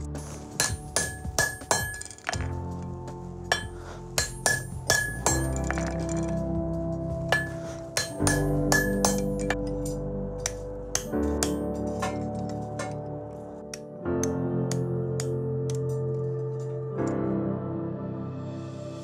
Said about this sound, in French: on communique uniquement au son du marteau